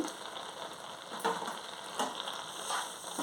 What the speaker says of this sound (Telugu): మనకి ఇది దగ్గర పడిందాకా బాగా కలుపుతూ ఉండాలి